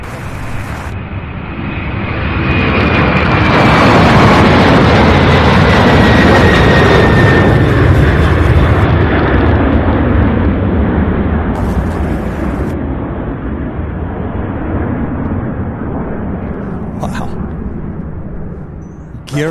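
A large airliner takes off at Louisville International Airport: a loud, sustained jet roar builds over a few seconds and holds, with a high engine whine sliding downward, then slowly eases as the aircraft climbs away.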